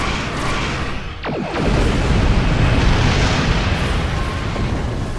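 A starship fires its weapons in Star Trek Online, a sharp burst followed by a heavy, sustained roaring blast that fills the scene loudly for several seconds, with no one speaking.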